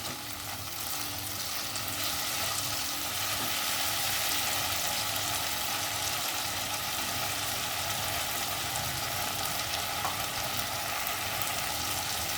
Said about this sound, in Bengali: ভালো করে এটাকে কষিয়ে নিতে হবে, কারোরই যেন কাঁচা গন্ধ না থাকে